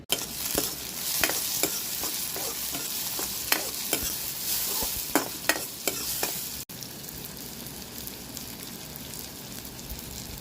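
Onions fry in a kadhai over a stove fire, a steady close sizzle broken by repeated sharp scrapes and clinks of a spoon stirring the pan, with no one talking.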